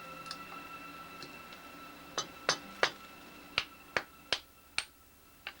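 A series of sharp taps from a wooden hammer end freeing a waxed carbon fiber part, sparse at first then about eight in a quicker steady rhythm, close and crisp against a quiet background.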